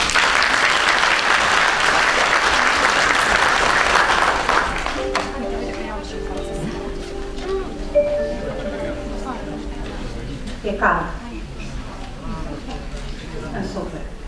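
Applause from a graduation ceremony audience for a 2019 law faculty class, loud and sustained for about five seconds before fading, with a voice speaking afterward.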